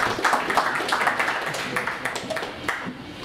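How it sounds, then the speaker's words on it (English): Audience applause at a New York music technology meetup, a dense patter of clapping from a modest crowd, fairly close and steady, tapering slightly toward the end. "Round of applause again."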